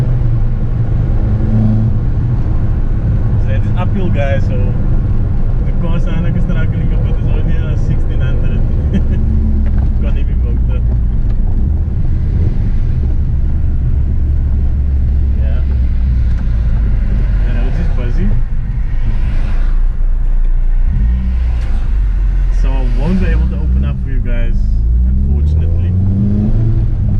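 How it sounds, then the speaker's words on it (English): A Toyota Corolla AE111 climbing uphill gives a loud, close engine and induction drone whose pitch rises and falls with throttle and gear changes across nearly half a minute. "Uphill, guys, so the car sound like"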